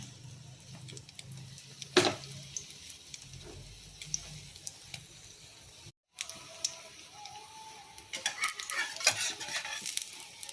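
Slices of bread frying in a pan for French toast: a faint sizzle broken by sharp utensil clinks and scrapes, a brief silent gap, then busier clattering and crackle.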